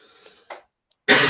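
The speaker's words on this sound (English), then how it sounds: "we're all coughing in here" A single short, sharp cough bursts out at close range in a quiet room during a podcast, preceded by a faint throat noise and a brief breath.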